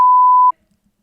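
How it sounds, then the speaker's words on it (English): A single steady censor beep, a pure tone, loud and close, holding for about half a second before cutting off into silence. "Beep."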